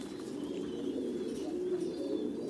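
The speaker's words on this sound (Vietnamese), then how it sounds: "Đây là chim bồ câu, là gà Mỹ đấy." American Giant pigeons in a red-brown purebred line at a breeding farm give low, soft cooing calls that run continuously at moderate loudness, with faint chirps in the background.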